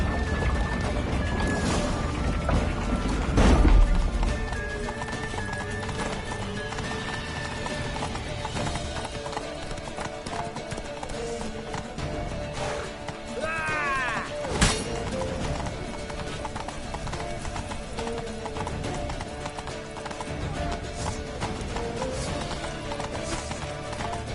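Rapid galloping hoofbeats in The Witcher 3: Wild Hunt, with horses neighing, occasional crashing impacts and a sharp whinny partway through, set against steady background music.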